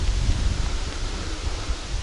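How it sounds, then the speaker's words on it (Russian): Steady wind rushes outdoors near a remote cabin, buffeting the microphone with low, rumbling gusts and a broad, continuous hiss. "Хорошо, ветер."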